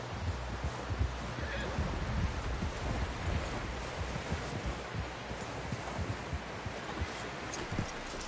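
A horse in the Red Dead Redemption 2 game snorts and whinnies over steady hoof clops and rustling outdoor ambience, continuous and moderately loud.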